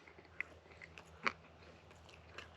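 Chewing with a couple of crisp bites at a camp breakfast of chorizo, avocado, corned beef hash and potatoes, close and fairly quiet, with soft mouth sounds between the bites and no speech.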